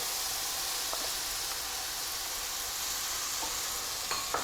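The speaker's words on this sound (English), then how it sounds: "listen to that sizzle" Steady sizzling and crackling of sweet peppers, onion and green pepper frying in hot olive oil, a constant hiss with a few brief clinks, close and moderately loud.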